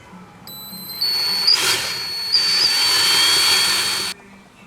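A power tool, likely a drill or electric screwdriver, whines steadily up close for a few seconds while screws and bolts are removed from a Dodge Challenger center console, starting and stopping abruptly.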